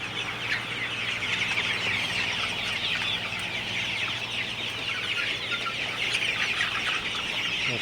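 A flock of 47-day-old Sonali super hybrid chickens clucks and chirps continuously, a busy farm flock heard up close over a low steady hum, with no talking.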